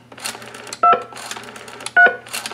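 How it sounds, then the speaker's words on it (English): A pulse dial to DTMF converter phone sends two short, loud touch-tone beeps about a second apart, standing out over quieter handling noise. "Nothing really happens because I'm playing normal touch tones."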